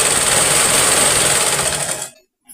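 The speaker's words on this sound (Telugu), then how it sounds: "చుట్టూ గెట్టుకుట్టు అయితే వేసేసుకోండి" A sewing machine runs a fast continuous stitch around a piece of cloth, loud and close with a steady high whir, then stops abruptly near the end followed by a brief faint click.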